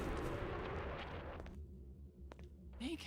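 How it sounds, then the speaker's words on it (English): An explosion sound effect plays in a custom Source engine game map, a loud rumbling burst that decays over about a second and a half, followed by a few sharp clicks and a brief noisy blip. "it was really funny how that just makes like an explosion sound"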